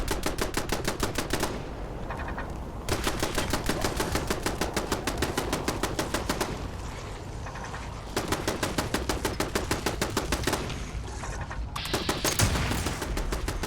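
Rapid automatic turret gunfire in Fallout 76, a dense stream of evenly spaced shots in several long bursts with brief pauses between them, loud and close, with no talking.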